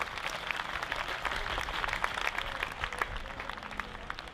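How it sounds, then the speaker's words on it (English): An audience at the Hawaiian Slack Key Guitar Festival on Maui applauds the sound and stage crew, a steady, moderately distant wash of clapping that holds at an even level throughout. "How about a nice round of applause for our sound and stage crew that's working here today."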